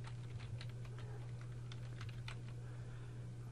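Light, quick keystrokes tap out a file name on a computer keyboard, a soft irregular patter over a low steady electrical hum, with no talking.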